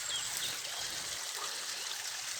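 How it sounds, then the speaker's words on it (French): Steady rushing and trickling of a garden waterfall, a continuous bright hiss with faint bird chirps above it. "que ce soit la cascade qu'on entend"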